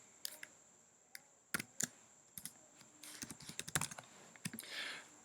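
Keys on a computer keyboard are tapped in short, irregular bursts of close, crisp clicks as a password is typed, with brief pauses between groups and no talking.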